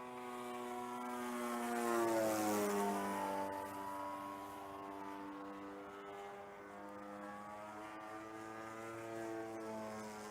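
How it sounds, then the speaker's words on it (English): An RC model aircraft with a single-cylinder engine fitted with a canister and a carbon 23-inch propeller drones steadily, its pitch rising and falling as it passes at moderate distance outdoors. "So this is a single cylinder engine with canister on to give it a little bit more power and a carbon 23-inch prop,"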